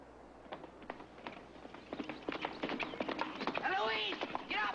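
Horse hooves clip-clop in a steady walking rhythm in a Bonanza western scene, moderately close and building slightly toward the end.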